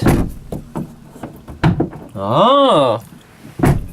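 A camper van door with a loose screw is worked open and shut, making several dull wooden thunks and knocks at irregular intervals. A person's voice, including a drawn-out sung-like vocal, is heard between them.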